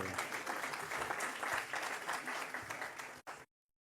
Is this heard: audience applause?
yes